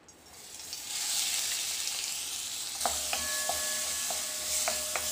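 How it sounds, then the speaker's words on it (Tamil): Ground spice paste sizzles and crackles in hot oil, a steady bright frying hiss that swells after the paste goes in, with a few clinks of a utensil against the pan near the end and no talk. "எண்ணெய் ஊற்றிட்டு இதில் நம்ம டைரெக்டாக அந்த அரைச்ச விழுதை போட்டுடலாம்"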